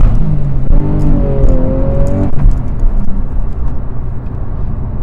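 A manual Porsche 911 Carrera S of the 991.1 generation, in sport mode, accelerating hard, its engine roar loud and close from inside the cabin, with the pitch climbing steadily through a gear and dropping briefly at a shift.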